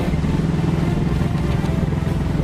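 Boat outboard motor on the Vorskla river, running loud and close with a steady throbbing drone and slight rises in pitch as it revs.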